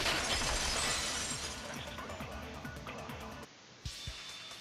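A vase shattering in the video game Danganronpa 2, a loud burst of breaking glass that rings and crumbles away over a few seconds, followed by a brief quiet and a couple of soft thuds.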